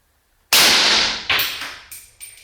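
A single AK47 shot with a full-power round through a silencer: a sharp, loud report that decays over about a second, followed by a few quieter mechanical clacks and echoes.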